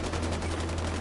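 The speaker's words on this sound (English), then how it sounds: "Crap. Gunfire." Sustained rapid video-game gunfire, a dense continuous burst of shots with a low hum underneath, loud and close throughout the short moment.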